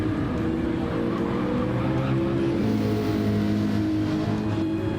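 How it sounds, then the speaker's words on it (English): Race cars at Watkins Glen in the Gran Turismo 7 video game roar on continuously, with several engine tones rising and falling and overlapping as the cars brake and accelerate, loud and steady throughout. "Ridge Raider braking as he gets ready to come into the 90"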